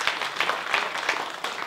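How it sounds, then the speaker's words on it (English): A room claps briefly at a Tyson Fury–Dillian Whyte boxing press conference, a moderate patter of hands with a few sharper bursts, fairly close and not very loud. "I think we deserve to give Frank Warren a clap."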